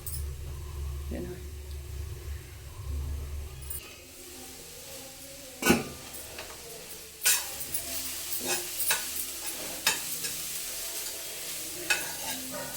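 Carrots frying in ghee in a pan for carrot halwa give a loud sizzle at first, then a spoon or spatula stirs and scrapes them in sharp, irregular strokes, with someone talking intermittently.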